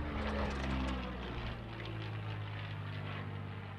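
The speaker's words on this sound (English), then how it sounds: "Thom, flying the P-40 Warhawk around the outside of that barrel." A P-40 Warhawk with an Allison V12 engine roars steadily overhead at an airshow, a loud, continuous propeller drone that eases slightly as it passes.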